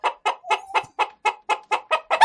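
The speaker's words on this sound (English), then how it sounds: "That's like a soprano chicken." High-pitched chicken clucking at The Gate in Guyana, about ten short, evenly spaced clucks in a quick steady rhythm, loud and close, with no talking.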